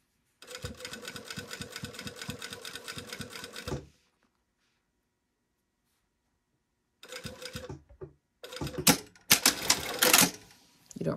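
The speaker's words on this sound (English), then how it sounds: "So I'm sewing this with a basting stitch from the top" Sewing machine running a long basting stitch down a pair of pants, a fast steady needle clatter for about three seconds, silence, then shorter bursts of stitching and handling noise near the end.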